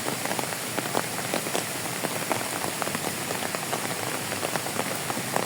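Rain falling on a house roof, a dense, steady patter of many small drops striking the surface, moderately quiet and continuous with no voices.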